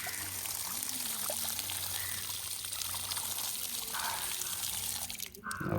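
Water poured and trickling over feet for washing at the Mannar Thiruketheeswaram temple in Sri Lanka, a steady splashing flow close by with faint voices in the background and a brief clatter near the end.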